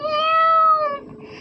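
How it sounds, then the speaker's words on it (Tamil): A single drawn-out cat meow, loud and close, holding steady for nearly a second before trailing off into a quiet background. "என்ன அது பூனை கத்துது."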